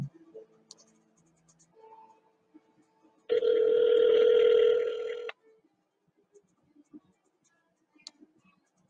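A phone call ringing through on a handset: a single steady electronic ring tone of about two seconds, clear and fairly loud, between quiet stretches of faint ticks and small handling noises.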